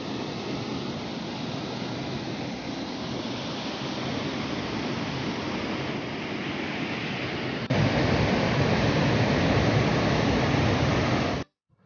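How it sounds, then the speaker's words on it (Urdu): Waterfalls pour out of Gowdar Lake, a mountain lake near Kalam, as a steady, full rush of falling water that grows louder near the end before cutting off. "گدر جھیل کے پہنچتے ہی اس طلسماتی جھیل سے نکلتے ہوئے نغمہ ریز آبشاروں نے ہمارا استقبال کیا"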